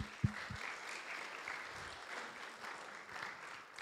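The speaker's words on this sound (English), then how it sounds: "So another round of applause to you guys" A small audience gives a faint, distant round of applause for teenagers' food donations, soft continuous clapping with a couple of louder thumps near the start.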